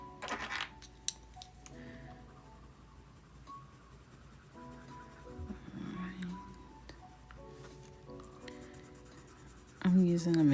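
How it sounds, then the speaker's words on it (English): Caran d'Ache and Prismacolor colored pencils scratch softly on paper in quiet, steady strokes, faint under background music, with a louder burst at the end. "I'm using a mix of Caran d'Ache and Prismacolor pencils right now."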